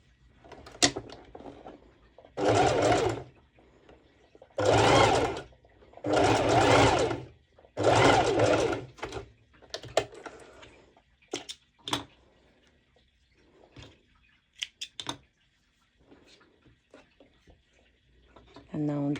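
A sewing machine stitching fabric bottoms with a V-band runs in several long, steady bursts, followed by shorter stops and starts with soft clicks and handling noises in between.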